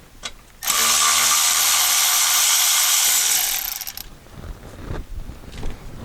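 A ratchet wrench buzzes rapidly for about three seconds while a loosened 10mm nut comes off a metal brace holding a VW Touareg belly pan, loud and close, followed by metallic clinks and fumbling handling sounds.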